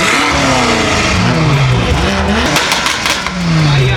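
BMW M3 cars move through traffic with loud exhaust, a dense roar of overlapping revving tones rising and falling close by, continuous for a few seconds.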